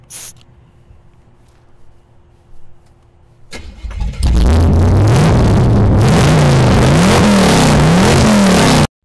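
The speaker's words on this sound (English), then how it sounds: "the audio clips when the car engine is revved" A quiet idle gives way to a car engine starting and revving hard, the sound overloading into harsh, distorted clipping as it rises and falls.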